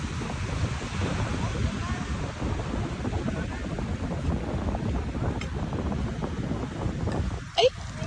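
Gentle sea waves washing onto the shore at Nakar, Quezon, a continuous soft surf roar mixed with wind buffeting the microphone, steady throughout with a brief bump near the end.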